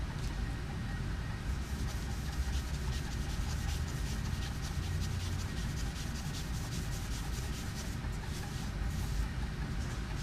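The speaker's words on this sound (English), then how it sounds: "I'm going to apply a small amount of oil to the surface of the foil" Oil is rubbed across the surface of a recording foil, giving a continuous soft, rhythmic rubbing and scraping that stays faint and close, with no voices.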